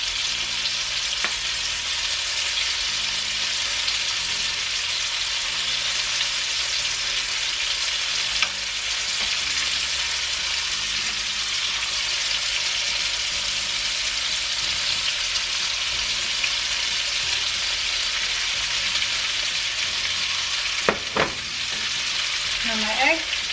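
Beaten eggs for a frittata sizzle and crackle steadily in a hot pan, loud and close, with occasional scraping of a utensil and faint background music underneath.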